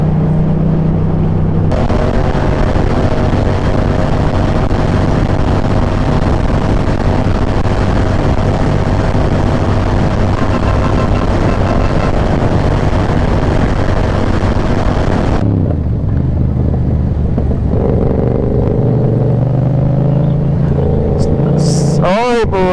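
Loud, continuous motor tricycle engine running close by, a steady droning rumble that suddenly drops and changes pitch near the end, with people talking over it.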